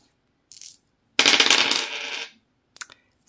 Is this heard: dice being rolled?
yes